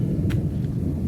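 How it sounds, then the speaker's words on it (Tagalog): Low thunder rumbling outdoors under an overcast sky, a steady deep roll lasting throughout with a faint brief crackle near the start, heard alone without talk. "Baka naririnig nyo kumukulog-kulog na naman at makulimlim sa labas."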